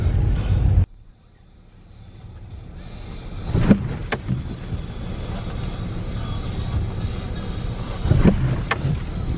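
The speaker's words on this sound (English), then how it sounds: "Jim's going to do some donuts in the parking lot to try to fix his brakes." A car circles a hotel parking lot doing donuts to reset its brakes, the engine hum rising and holding steady after a sudden drop, with brief sharp knocks or clatters standing out twice.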